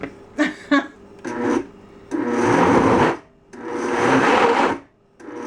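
A blender churns a very thick chocolate dessert mixture in short pulses: two quick bursts, then longer stretches of grinding with brief pauses between them. The machine is close and fairly loud, with no talking.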